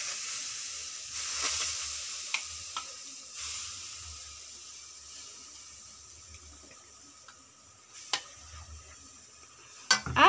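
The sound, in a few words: stirring mango jam puree in a pan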